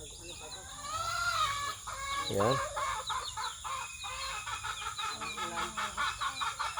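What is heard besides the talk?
chickens clucking while being fed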